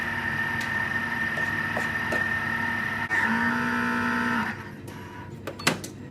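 A Thermomix food processor with its whisk attachment running at speed 2, mixing sponge cake batter as flour goes in: a steady mechanical whirr with a faint tone that shifts partway through, then stops, leaving brief clicks.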